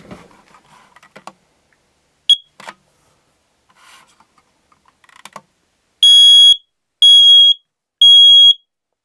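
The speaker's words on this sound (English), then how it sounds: "I have picked up a carbon monoxide and smoke alarm." A First Alert carbon monoxide and smoke alarm being tested. Several clicks and taps come first, then three loud, piercing beeps sound close by in an even rhythm.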